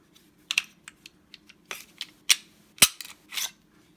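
Sharp mechanical clicks and clacks come from a Polymer80 PF940c pistol built with Brownells parts as its slide is racked to clear it: a quick series of close metallic snaps, a few louder, in a quiet room with no talking.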